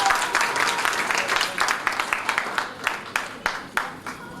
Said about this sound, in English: Audience, you're waning in your applause.